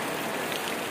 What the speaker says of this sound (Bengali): প্রচন্ড বৃষ্টি আসছে।